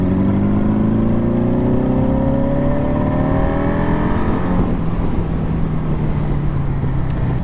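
A 1975 Honda Goldwing motorcycle engine with an upgraded DynaTek ignition revs up loud and close, its pitch rising steadily through the throttle before settling into a rough, steady drone.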